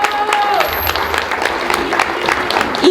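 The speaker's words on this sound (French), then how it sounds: "Natacha ici présent que je vous demande d'applaudir très fort." An audience applauds in a hall, a steady wash of clapping from a crowd mixed with voices and some cheering, under a speaker's amplified talk.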